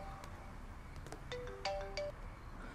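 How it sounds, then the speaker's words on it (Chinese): A mobile phone ringtone goes off in a quiet indoor drama scene: a short, faint run of bright electronic melody notes over low room hum, with no talk. "你电话响了。"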